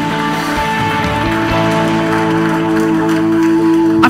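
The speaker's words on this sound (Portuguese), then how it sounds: "Tem alguém que pode aplaudir Jesus aqui nessa tarde?" In a church service, an audience claps steadily for about four seconds, a dense, even wash of applause over sustained musical tones with no speech.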